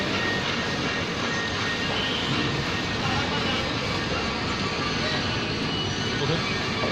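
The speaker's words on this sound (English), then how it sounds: "I found a video of this bypass valve in action, which I took during the commissioning of these stop logs." Water rushing through a dam's stop log bypass valve, a loud, steady, dense roar that holds without letup for the whole stretch.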